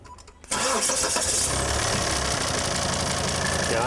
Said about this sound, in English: I'd like to start the car, please.